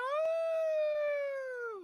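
A person imitates a dog's howl, one long, loud, steady cry that sags in pitch at the end, heard during a co-stream of a Challengers Series Championship esports match.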